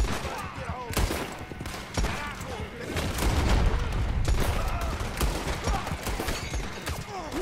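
Gunfire in the Red Dead Online video game during a caravan raid: rapid, irregular bursts of overlapping shots, some sharp and near, others distant, with voices talking between them.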